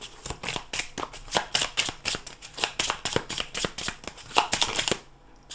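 Tarot cards being shuffled by hand, a rapid series of crisp close riffling and slapping bursts in an uneven rhythm, about a dozen strokes, then a quieter finish.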